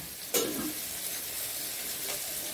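Potato pieces frying in oil in a pan for a chicken curry, a steady close sizzle with a brief louder burst as they are stirred near the start.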